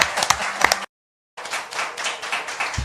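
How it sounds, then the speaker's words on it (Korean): People in a studio clap in quick, close bursts, then fall silent briefly before a denser round of applause picks up and continues steadily. "아, 박수 쳐, 박수."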